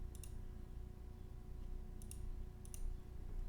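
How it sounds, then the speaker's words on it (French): Keys on a calculator are pressed in a few faint, light clicks spaced irregularly apart, heard over a low steady room hum. "On tape ça à la calculatrice."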